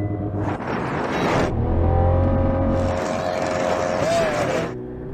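A Ferrari 488, Lamborghini and Porsche 911 Turbo S launch in a drag race, with loud engines roaring and rising in pitch through the gears, and people talking over the noise.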